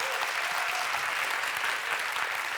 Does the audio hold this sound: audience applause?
yes